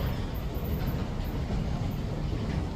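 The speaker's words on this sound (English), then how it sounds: "very soon the train should be coming." A train pulls into a German station with a steady, low rumbling roar that holds evenly throughout, heard fairly close with no talking over it.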